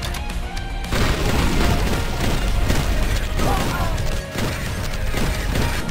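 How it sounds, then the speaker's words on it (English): A shotgun fires in the video game Mighty Goose. Loud, dense booming blasts go off with crashing impacts and stay nearly continuous for several seconds. "And let's not forget my personal favorite,"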